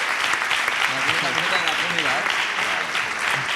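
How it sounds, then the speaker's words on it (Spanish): Sustained applause from a crowd fills the whole stretch, dense and steady clapping with voices faintly mixed in underneath. "Un aplauso"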